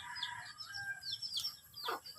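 Chickens cluck and squawk nearby, with rising and falling calls overlapping in quick succession against quiet outdoor background.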